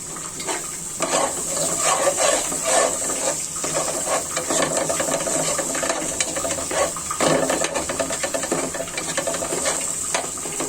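Bottle gourd and pointed gourd curry sautéing in a pan, a steady loud sizzle with continuous scraping stir strokes throughout, no voices.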